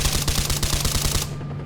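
Rapid automatic gunfire in the video game S.T.A.L.K.E.R.: Clear Sky rattles loudly in a steady burst for over a second, then cuts off, leaving a low hum.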